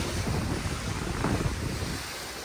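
Sea waves, a steady rushing surf wash mixed with strong wind buffeting on the microphone, continuous and fairly loud throughout.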